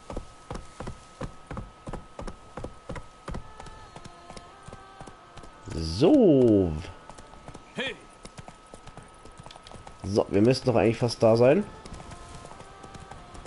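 Horse hooves clip-clop steadily on a path in The Witcher 3: Blood and Wine, a regular walking rhythm heard under a man's speech, with louder musical or voiced passages in between.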